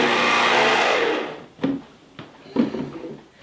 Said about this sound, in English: You want to keep an eye on it when you're blending